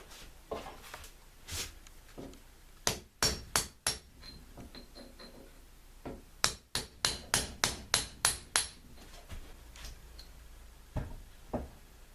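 A hammer pounds out the center pin of a gear carrier, sharp metallic strikes coming in bursts of rapid blows with short pauses between, close and clear over a quiet background.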